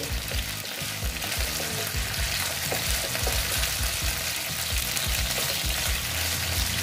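Chicken pieces fry slowly in oil for Afghani chicken, a dense, constant crackling sizzle heard up close with occasional stirring, and no one speaking.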